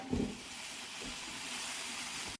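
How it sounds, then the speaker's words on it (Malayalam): A steady hissing, bubbling rush of milk boiling hard in a pot, continuous and close, with a soft knock near the start. "പാല് നന്നായിട്ട് തിളച്ച് വന്നിട്ടുണ്ട്"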